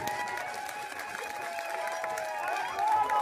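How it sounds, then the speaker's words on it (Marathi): A crowd at an outdoor political rally in Wai claps steadily throughout, a dense wash of applause at moderate distance with a few cheers mixed in. "एकदा जोरदार टाळी झाली पाहिजे या सर्वांसाठी"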